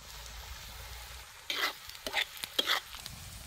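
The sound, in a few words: onion frying in oil for egg bhurji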